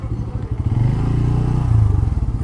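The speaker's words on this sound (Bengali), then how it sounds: "এখানে বাইকটা রাখি," A motorcycle engine idles close by while being parked, a steady low rumble with a slight swell toward the end.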